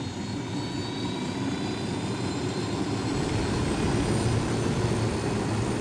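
Steady helicopter engine and rotor drone in the video game Ghost Recon Wildlands, a continuous loud rumble heard from inside the aircraft that grows slightly louder partway through, with no speech.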